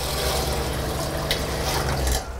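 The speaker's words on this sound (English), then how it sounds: "we can just turn a little tap on there. We've got running water" Water runs steadily from a small tap into the sink of a Land Rover camper, a loud, close, continuous splashing stream that cuts off near the end.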